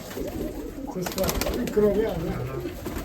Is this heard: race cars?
no